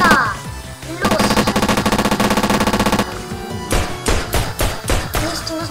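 A submachine gun fires in the Roblox video game, with a loud sustained rapid burst of shots followed by a few shorter separate volleys, under faint game noise.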